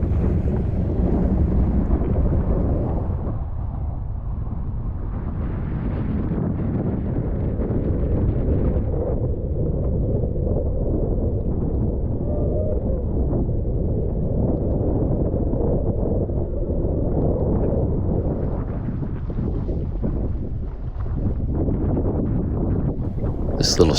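Strong gusty wind roars across a New Jersey bay while foiling, buffeting the microphone in a continuous low rumble that swells and eases, with water rushing underneath.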